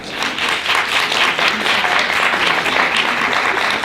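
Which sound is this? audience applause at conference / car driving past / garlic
audience applause at conference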